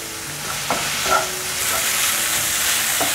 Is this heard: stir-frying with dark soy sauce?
yes